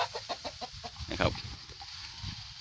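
Fighting-breed chickens kept in a backyard livestock area cluck in a quick, repeated series of short calls at close range, with one louder, drawn-out squawk partway through and faint background noise; no talking.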